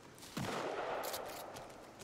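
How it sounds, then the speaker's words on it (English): A single distant gunshot-like bang in the video game Sons Of The Forest, followed by a rumbling echo that fades slowly, faint and alone. "I hear gunshots coming from the opposite direction."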